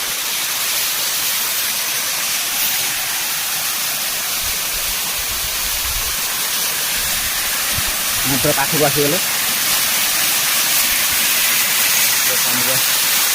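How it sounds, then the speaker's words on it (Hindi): Sari Sua waterfall in Balasore, Odisha: a constant roaring hiss of falling water fills the whole clip, with a brief voice speaking over it partway through. "यहाँ सारी सुआ वाटरफॉल बुझे ऊपर पानी खसुची केते सुंदर"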